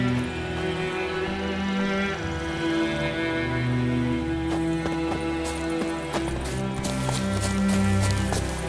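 Steady rhythmic hoofbeats of a galloping horse in the video game The Witcher 3 under continuous music, with sharper clopping strikes growing more distinct toward the end.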